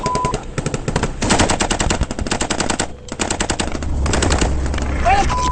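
Sustained machine-gun fire during a military ambush, dense rapid bursts very loud and close, briefly pausing before resuming, with shouted voices faintly mixed in.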